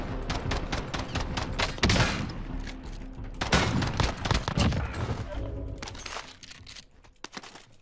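Gunfire in the battle royale shooter Call of Duty Warzone, including shotgun blasts: dense bursts of rapid shots and heavier booming reports, loud and close, thinning out toward the end.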